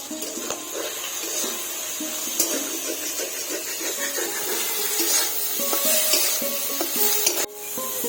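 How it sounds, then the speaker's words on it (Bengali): Prawns fry steadily in a pan for a jackfruit and prawn curry, giving a continuous close bubbling sizzle with scattered clinks and spatter throughout. "চিংড়িটা ভাজা হয়ে গেছে এখন নামিয়ে নিব"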